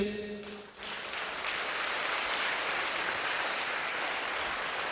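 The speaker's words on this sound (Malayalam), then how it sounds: "ഒന്ന് കൈയുയർത്തി കൈയടിച്ച്" A church congregation claps together in loud, steady applause that swells quickly and continues without letup.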